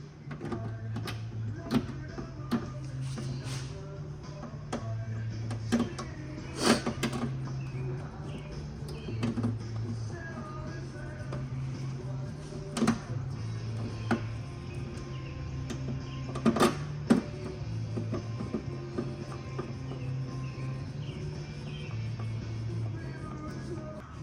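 Screws are driven into a vertical mount for battery chargers in a tool box power drawer, cutting their own threads. Repeated short whirring runs of a driver alternate with sharp clicks and knocks, close by and without speech.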